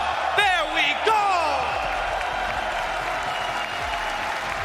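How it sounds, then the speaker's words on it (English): Esports arena crowd at a Dota 2 Major in Stockholm applauding Thunder Awaken, a broad roar of clapping with a couple of whoops near the start, steady and moderately loud throughout. "can we get a Thunder, a roaring crowd from the audience? A strong applause."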